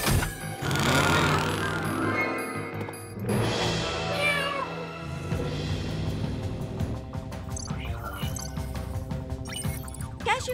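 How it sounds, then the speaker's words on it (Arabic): Cartoon cat meowing several times in short, pitch-sliding cries, close and clear over a busy background score. "مرحباً أيها القط، ما بك؟"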